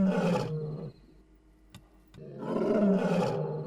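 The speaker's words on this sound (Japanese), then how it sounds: "暗闇にライオンのうなり声が響き渡ります。" Lions roar in the dark of night in an African desert, two deep, loud bursts separated by a quiet gap with a few faint clicks.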